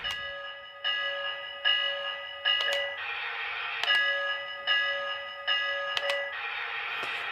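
A Lionel LionChief Hogwarts Express toy train bell dings over and over in an even, repeating pattern, with sharp clicks between rings. It is fairly quiet and near.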